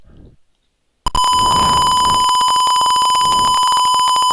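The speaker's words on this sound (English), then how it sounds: "a buzzer sound is heard" A gas leak detector's alarm: a loud, steady electronic buzzer blares continuously after a short pause, a harsh high-pitched tone that does not let up.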